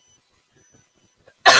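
A single sharp, loud cough bursts out close at the end after near silence, from someone speaking on a late-night stream.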